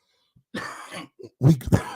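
A person clears their throat and then gives a couple of short, close coughs, with brief silences in between.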